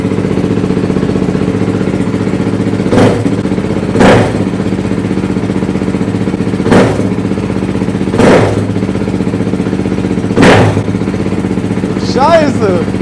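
A dirt bike engine idles steadily with a loud, rumbling FMF exhaust fitted with a dB killer, broken by several short sharp bursts throughout.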